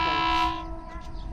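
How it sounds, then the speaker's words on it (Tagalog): A train passes close by in San Pablo City, Laguna, its horn blaring with a strong tonal blast that fades quickly into low rumbling rail noise. "Ang ganda ng tren ngayon, ano?"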